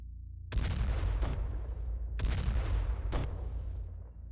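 Gunfire in The Xcom Files, an Xcom video game mod, sounds as two pairs of loud, sharp shots with long rumbling decays, each pair spaced under a second apart, with no talk over them.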